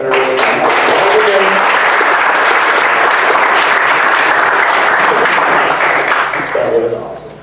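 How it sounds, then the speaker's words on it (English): An audience at a Logicon 2016 evening event bursts into sustained loud applause for about seven seconds, dense clapping that fades briefly at the end. "a round of applause for all the organizers"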